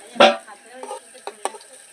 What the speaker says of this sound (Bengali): তো আলুগুলো আগে ভেজে নিই